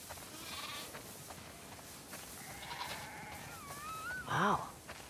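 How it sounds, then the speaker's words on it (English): Sheep bleating on a farm in the video game The Last of Us Part II, a few thin calls over quiet ambience before one louder, nearer bleat near the end. "a lot of sheep."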